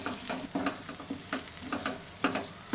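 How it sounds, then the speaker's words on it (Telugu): Eggs frying in a pan in a Rayalaseema-style egg fry are stirred with a spatula, giving repeated scraping strokes in a steady rhythm over a quiet sizzle, close and fairly soft. "ఇలా కలుపుతూ ఉండాలి."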